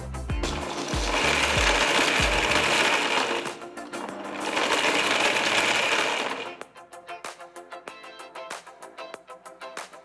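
An electric mixer grinder whirs in two loud bursts, grinding roasted ingredients into a coarse powder. Lighter rattling and clinks from the jar follow once the motor stops.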